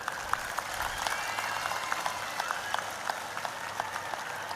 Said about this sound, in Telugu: ఒక్కసారి చెవులు పగేటట్టు చప్పట్లు కొట్టండి మరి